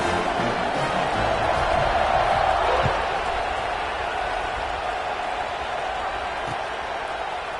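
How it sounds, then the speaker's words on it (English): Stadium crowd noise from the College Football 26 video game during a kickoff after a touchdown drive, a broad steady roar of cheering that swells early and then eases slightly, continuous throughout. "this crowd is feeling themselves after that last drive"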